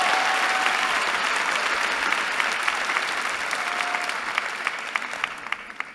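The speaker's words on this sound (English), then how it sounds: "So please join me in giving a huge round of applause to my fellow PhD students." Sustained applause from a large audience at a UC Berkeley School of Information commencement, steady at first and slowly thinning out, with a few sharper individual claps near the end.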